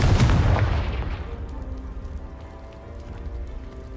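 Confringo blasting spell in Hogwarts Legacy erupts with a sharp explosive burst that crumbles a blocking pile, then fades into trailing rumbling debris and settling crackles.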